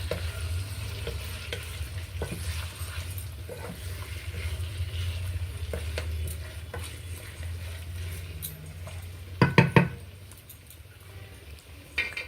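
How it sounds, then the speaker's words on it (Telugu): Chicken pieces with onions and ginger-garlic paste sizzle steadily in a pan while a spoon stirs and scrapes. A few loud metallic clatters come near the end. "ఆ ఉల్లిపాయలు అల్లం వెల్లుల్లి పేస్ట్ ముక్కలకు పట్టేటట్టు బాగా కలపాలి."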